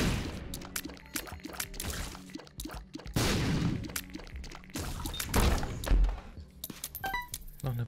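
Bomb blasts in The Binding of Isaac Afterbirth+ gameplay, with heavy thuds and bursts rising out of a dense, busy game mix and repeating several times across the stretch.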